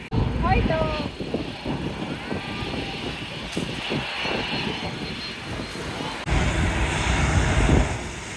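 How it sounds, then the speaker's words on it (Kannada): A passenger airplane passes overhead near a Taiwan airport, its engine roar swelling and fading as a broad rumble while people talk nearby and wind buffets the microphone. "ಏರೋಪ್ಲೇನ್ ಹೋಯ್ತು, ಮತ್ತೊಂದು ಬರ್ತೈತಿ ನೋಡೋಣ"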